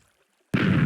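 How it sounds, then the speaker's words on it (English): A sudden loud TNT blast in Minecraft beta 1.7.3 in a cobblestone blast chamber, a single booming explosion that breaks out of near silence and roars on without fading. "There goes the TNT."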